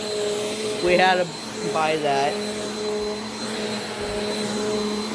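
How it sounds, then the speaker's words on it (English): A Hoover Power Dash carpet spot cleaner runs with a steady droning whine and hum, close by, while people talk over it. "That's my Hoover Power Dash spot cleaner."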